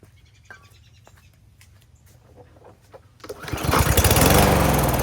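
A lawn mower engine fires up after fuel is poured into the carburetor; quiet ticking and handling noises give way to a loud, close, revving roar that keeps running.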